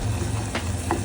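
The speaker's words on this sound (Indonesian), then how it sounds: "Kita aduk lagi." Chili powder fries in a pan while being stirred, a soft steady sizzle with a couple of faint scraping touches, quiet and without talk.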